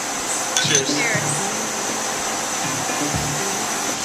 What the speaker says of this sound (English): as the beer goes down over the steam heated cone. It's flashing into a boil foam.